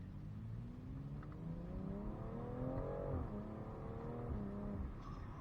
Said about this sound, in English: Let's put this thing back into M mode and rip it.